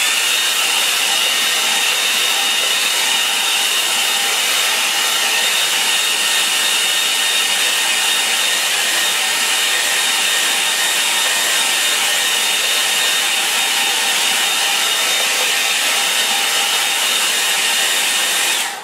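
Hair dryer drying a watercolour painting, a steady loud whirring hiss running continuously and close, with no pauses until it cuts off at the end.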